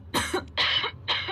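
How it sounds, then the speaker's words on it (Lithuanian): Three short, loud coughs in quick succession, close up and alone, from a television advertisement for a cough medicine. "ACC supranta kosulį."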